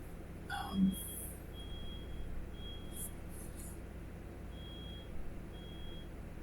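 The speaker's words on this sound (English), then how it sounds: "Sounds like somebody set off their fire alarm." A fire alarm next door sends out faint, distant high beeps at irregular intervals over a steady low room hum.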